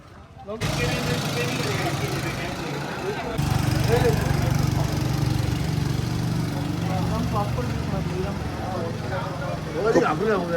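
Go-kart engines drone steadily at a go-karting track near Mahabaleshwar, a continuous buzzing motor noise that grows louder partway through, with people talking over it.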